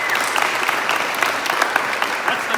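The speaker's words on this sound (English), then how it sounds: "let's give him a clap" An audience at a company ribbon cutting event claps together in a steady burst of dense applause, close and fairly loud with no pause.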